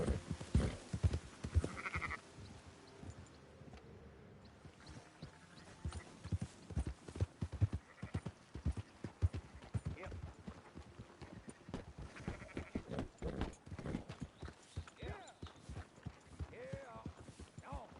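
Sheep bleating among livestock in the Red Dead Redemption 2 game, mixed with hoof clip-clop and herding noise, repeated calls over a busy, steady bed of farm sound.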